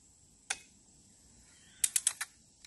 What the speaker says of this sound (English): When you cock this gun, you pull it down and you'll hear it click 3 times.